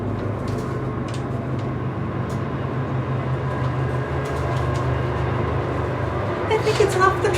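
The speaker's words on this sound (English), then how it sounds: "Train." A big train running, heard as a steady low rumble and clatter that continues throughout with some faint higher rattles, moderately loud and building slightly near the end.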